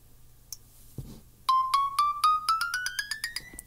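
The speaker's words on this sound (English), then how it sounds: "You got different ringtones." A Samsung Gear S3 Frontier smartwatch plays a ringtone preview: a couple of soft beeps, then a rising run of bright chiming notes that repeat quickly, quiet and alone.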